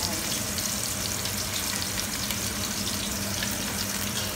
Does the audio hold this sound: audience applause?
no